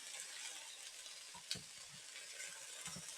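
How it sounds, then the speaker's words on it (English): Onions and peppers sauté over medium-high heat in a pan for a vegan jambalaya, giving a steady, close sizzling hiss with a few soft clicks and knocks of stirring, and no talking. "Now let that saute for about 6 minutes, get it all nice and softened up a little bit."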